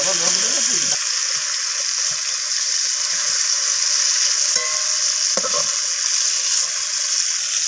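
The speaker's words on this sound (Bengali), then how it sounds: "লবণ আর হলুদটা দিয়ে আমি টমেটোটাকে ভালোভাবে ভেজে নেব লালচে করে।" Tomatoes fry in oil with salt and turmeric for a green tomato and Bombay duck dish, a loud steady sizzle that fills the pan, with brief clattering near the start and a couple of later knocks.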